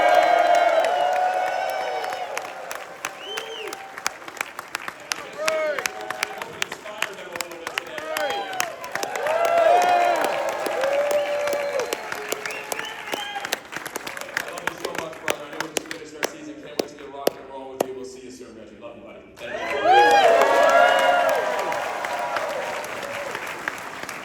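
A keynote audience claps and cheers on cue, sustained applause with whoops rising and falling under a speaker's amplified voice, then a fresh loud burst near the end.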